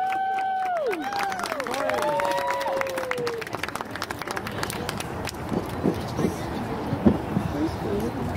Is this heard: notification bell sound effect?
no